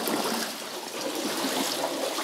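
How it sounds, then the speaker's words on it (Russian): Water stream flowing through an underground river tunnel, a steady close hiss of running, trickling water without pauses or voices. "А вот тут очередной водоток."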